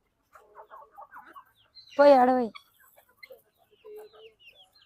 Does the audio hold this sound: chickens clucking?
yes